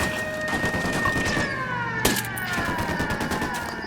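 Dense rapid gunfire from Ghost Recon Wildlands, continuous bursts with a siren-like wail and electronic tones running underneath, loud and close.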